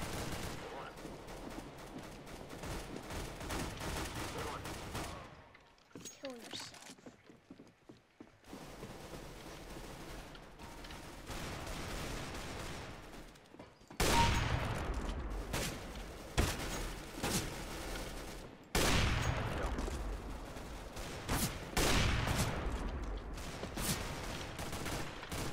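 Gunfire in a video game arrives as loud, rapid bursts of shots and rattling volleys, broken by short quiet gaps, with stretches of heavy firing later on.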